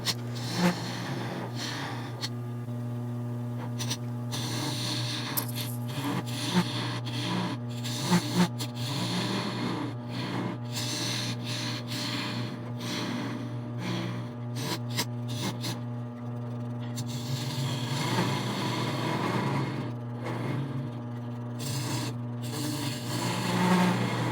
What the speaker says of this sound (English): This chisel that I'm using right now is just a roughing chisel.